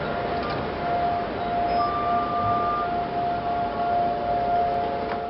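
Israel's nationwide Holocaust Memorial Day siren holds one long, steady tone from start to finish, loud and unbroken over faint outdoor ambience.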